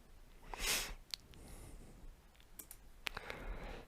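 Computer mouse clicks come as a few sharp, isolated taps with gaps between them, close and quiet and heard alone.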